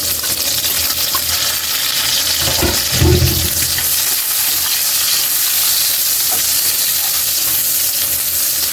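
Onions and water spinach stems frying in hot oil in a pan, giving a loud, continuous sizzle with bursts of stirring and clatter midway, with no talking.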